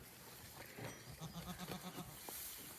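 A Girgentano goat, the twisted-horned breed, gives a faint, wavering bleat in the Umbrian countryside, a short run of pulsing tones heard at a distance and quiet overall.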